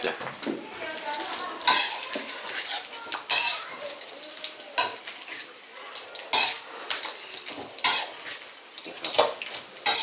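Mekong tilapia with chili is stir-fried in a pan, with repeated scraping and clattering strokes of a spatula on metal over a light sizzle, close and uneven in rhythm.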